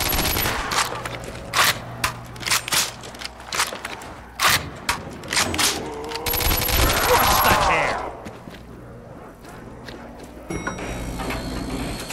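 Rapid gunfire from a Call of Duty Black Ops zombie mod match, with bursts and single shots from a Nova six weapon that stutter through the first half, then a denser sustained volley and a mechanical clatter near the end.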